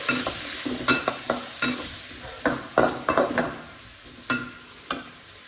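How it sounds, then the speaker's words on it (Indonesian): Food being stirred in a pan, a string of sharp spatula scrapes and clacks at uneven intervals over a soft sizzle, close and fairly loud, with no voices. "kita aduk"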